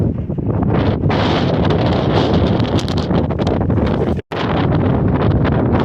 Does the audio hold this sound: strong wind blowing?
yes